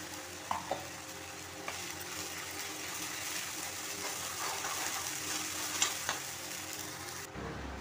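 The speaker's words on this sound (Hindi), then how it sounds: "तेल हमारा गर्म हो चुका था तो मैंने जीरा डाल दिया है" Cumin seeds frying in hot oil in a kadhai for a besan curry, giving a steady, fairly quiet sizzle with a few faint clinks, then stopping abruptly near the end.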